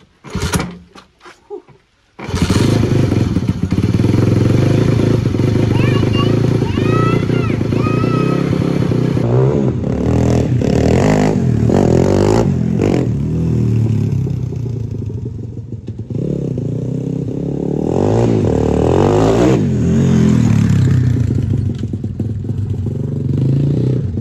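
A Honda ATC 70 three-wheeler catches after a kick start and revs loudly up close, its small engine buzzing and rising and falling with throttle, mechanical clatter mixed in and a voice briefly heard.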